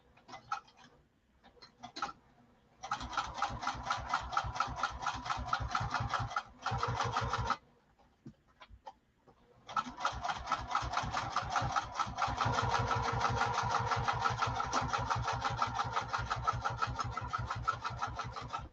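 Sewing machine stitching fabric in close, rapid mechanical ticking bursts, starting and stopping several times before settling into a long steady run of stitches.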